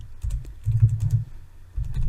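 A command is typed on a computer keyboard in two short bursts of close, quick key clicks separated by a brief pause, with no talking.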